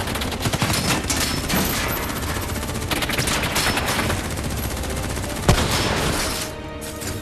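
Gunfire in the video game Call of Duty Black Ops 3: a dense, continuous fusillade of rapid automatic shots, loud and close, with one sharper report standing out near the end.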